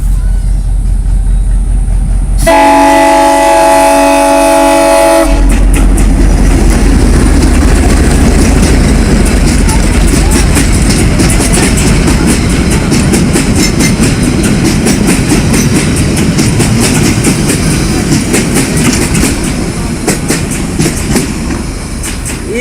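A train travelling through the Noakhali countryside of Bangladesh gives a loud, continuous rumble with rhythmic clickety-clack from the rails and a brief horn-like tone near the start, heard up close from on board.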